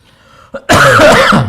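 A single sharp throat-clearing cough bursts out loud and close after a brief quiet moment, followed by a raspy exhale.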